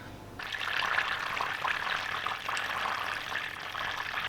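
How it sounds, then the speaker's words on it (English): Butter bubbles and foams in a pan while browning for keto ANZAC biscuits. It gives a steady soft sizzling hiss with faint crackles, close and fairly quiet, and no one speaks. "So it's been bubbling away for a few minutes now, and you can see like it's starting to get kind of foamy on the top"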